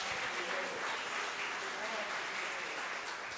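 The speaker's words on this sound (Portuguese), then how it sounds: "Quem pode me ajudar a aplaudir a Jesus nessa noite?" A church congregation applauds Jesus during an evening service, a steady, even roar of many hands clapping with voices mixed in beneath.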